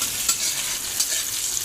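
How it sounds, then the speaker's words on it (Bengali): Vegetables being stir-fried in a pan, giving a steady, loud sizzle with a couple of soft stirring scrapes over a short stretch. "এটাকে একটু ভেজে ভেজে নেব।"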